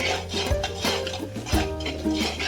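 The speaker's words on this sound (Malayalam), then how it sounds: "നന്നായിട്ട് അതിനെ ഇളക്കി കൊടുക്കണം" A spoon scrapes and knocks against a pan as mango pickle masala with salt is stirred, giving a few rhythmic metallic clinks and scrapes that sound close.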